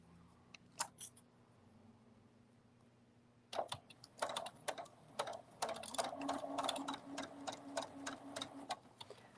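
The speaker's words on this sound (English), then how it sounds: "so now we'll just sew this" Sewing machine stitching minky fabric for a cuddle bunny: a few isolated clicks, then a faint, close run of quick rhythmic needle ticking that builds steadily, with no talking.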